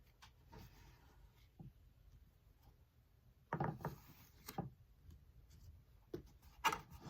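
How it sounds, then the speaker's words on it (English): Tarot cards being shuffled by hand: soft papery riffles and slaps arriving in uneven bursts, with a louder flurry midway and a sharp snap near the end, close and fairly quiet with no talking. "Pardon my shuffling. I haven't perfected my technique just yet."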